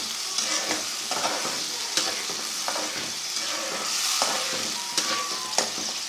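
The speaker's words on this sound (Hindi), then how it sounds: "अब इस मौके पर हम इसमें टमाटरों का पेस्ट शामिल कर देंगे।" Tomato paste being stirred into hot oil for a dhaba-style egg curry: a steady sizzle runs throughout, with repeated spoon scrapes and stirring knocks close by, and no voices.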